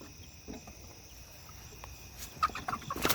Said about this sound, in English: The chickens are about to eat them.